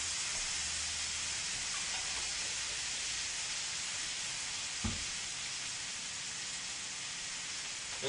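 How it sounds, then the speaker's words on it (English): Garlic sautés in a pan for king crab legs, giving a steady, close sizzling hiss that holds evenly throughout with one brief soft knock partway through. "we're going to let it saute in"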